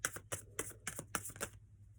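Tarot cards are shuffled by hand in a quick series of six crisp riffling bursts, close and fairly soft, then a brief quiet stretch with no talk.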